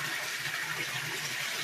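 Water from a homemade koi pond filtration setup, a bead filter plus a solid matter filter, pours and gushes in a steady, soft churning stream with no break.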